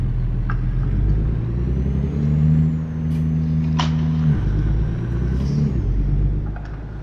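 Truck engine in American Truck Simulator idling with a steady low rumble, then a loud air-brake hiss lasting about two seconds midway, with a brief sharp release later, no talk.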